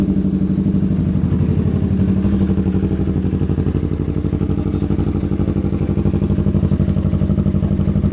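Twin-cylinder Yamaha R3 motorcycle fitted with an Akrapovič exhaust idles close by, a steady throbbing, evenly pulsing engine note that runs unbroken and loud throughout.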